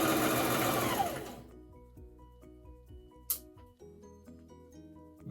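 A sewing machine stitching a fabric mask hood whirs loudly and steadily for about a second, then winds down, followed by a sharp click and faint rattles.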